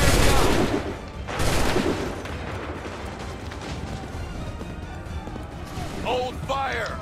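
Musket volley gunfire in Assassin's Creed III: heavy bursts of massed musket fire open the clip and come again near the second mark, followed by sustained battle rumble, with shouted commands heard toward the end.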